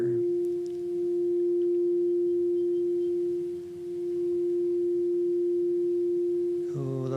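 A crystal singing bowl rings with a pure, sustained tone that swells and ebbs gently in loudness, a long even hum filling the space, with a brief softer rustle near the end.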